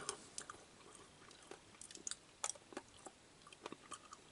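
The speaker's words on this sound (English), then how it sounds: "They got a little bit of a snap, crunch, and a little bit of a chew." Crunchy Caribbean jerk dessert chickpeas being chewed up close, a quiet series of irregular crisp crunches and soft bites with no talking.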